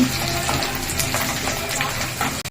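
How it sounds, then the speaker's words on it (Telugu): Ginger and garlic fry in oil on a low flame, giving a dense, steady sizzle with faint scraping stirs throughout, ending in a brief cutoff. "అల్లం ఎల్లిగడ్డ ఇట్లా కొంచెం మంచిగా అది కూడా దూరగా ఇంకా ఇట్లా పచ్చి పచ్చి కలర్ ఉండొద్దు కొంచెం కలర్ చేంజ్ అయ్యే వరకు సిమ్లో పెట్టి వేయించుకోవాలి"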